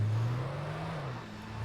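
A Hyundai driven in the Alan Wake video game gives a steady, low engine drone that holds close and loud throughout, alone with no talk.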